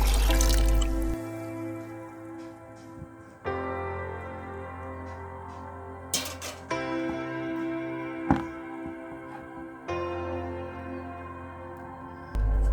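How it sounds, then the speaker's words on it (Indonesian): Palm sugar solution mixed with rice-washing water poured into a bucket, a soft steady trickle and drip running through most of the stretch with a few light knocks, close by and without talk. "lalu dituang dengan larutan gula jawa yang sudah dicampur dengan air cucian beras ke dalam ember"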